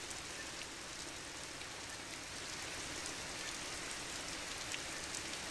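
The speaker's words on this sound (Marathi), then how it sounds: "पावसाची ही दापोलीतली दृश्य।" Steady rain falls in Dapoli, Ratnagiri, a faint even hiss with scattered drop patter, continuous and distant, no voices.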